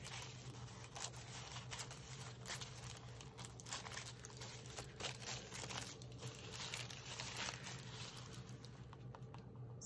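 Crisp, papery crinkling and cutting noises run continuously over a low background hum, close and fairly quiet, as tissue paper is worked with scissors during a collage project.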